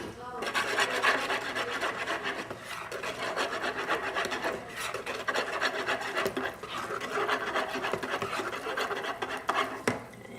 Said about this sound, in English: I think a whisk is better to use to start off. It makes the mix better.